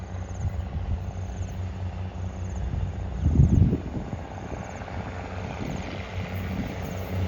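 A heavy diesel locomotive engine drones low and steady nearby while descending a slope, its deep rumble surging briefly before quickly settling back to a lower idle.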